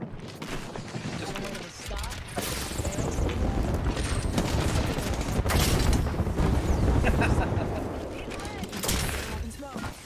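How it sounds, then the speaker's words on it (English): Airstrike blasts and heavy gunfire in an Apex Legends Season 8 battle, a dense, continuous roar of booms and rapid shots for the whole stretch, with voices talking over it. "Airstrike danger close."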